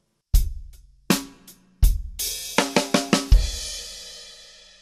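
A drum kit plays a short groove from a song alone: heavy kick and snare hits, a quick run of snare notes, and a hi-hat opening into a sizzling wash on the end of beat 3.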